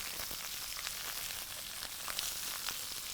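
Cut yellow onions fry in a tagine with a steady, close sizzle and scattered small crackles and pops throughout, no voices.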